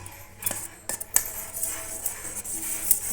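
A spoon works through a bowl of wheat flour mixed with turmeric, ginger-garlic paste and asafoetida, producing soft scraping and occasional light clinks against the bowl's side at close range.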